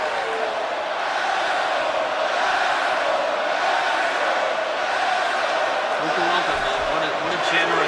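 Wrestling arena crowd in the WWE 2K25 video game, a steady dense roar of cheering and chatter that holds loud throughout, with a commentator talking over it.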